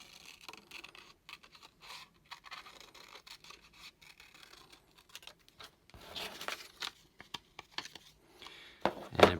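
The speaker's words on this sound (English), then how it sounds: "I'm going to take my scissors" Scissors cutting shapes out of a sheet of paper to make a tessellation, heard as faint, irregular snips and paper rustles close by, with no talking.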